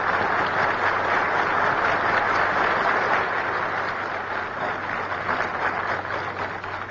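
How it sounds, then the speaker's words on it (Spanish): Sustained, loud applause from the United Nations General Assembly in an archival 1964 recording, greeting Che Guevara's appearance; dense, steady clapping fills the hall throughout with no speech, tapering only slightly toward the end. "la Asamblea General de la ONU aplaudía a rabiar la comparecencia del Che Guevara."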